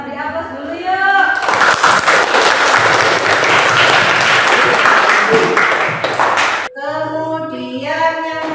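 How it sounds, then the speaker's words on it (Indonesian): Students in a classroom break into loud, sustained applause for several seconds, with a voice speaking just before and again right after the clapping. "Kita beri aplaus dulu yuk."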